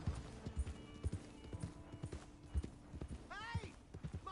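Horse hooves clip-clop steadily in Red Dead Redemption 2, a regular close trot of hoofbeats with a brief whinny-like call near the end and faint voices in the background.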